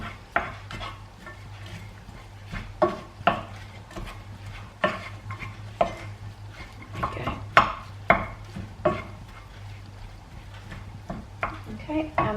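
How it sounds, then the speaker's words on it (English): Chopped onion and mushrooms being stirred in a pan, with repeated scraping clatter of a utensil against the pan over a faint sizzle and a steady low hum, sounding close and irregular throughout. "half a chopped onion and about 3 or 4 chopped mushrooms. Just give that a little stir."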